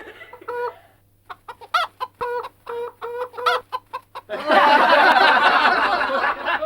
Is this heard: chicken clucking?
yes